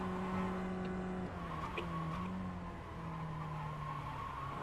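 A Mazda MX-5 race car at Charlotte Roval in iRacing, its tires squealing in long, steady tonal whines over a droning engine as the car is worked side to side to warm the rubber.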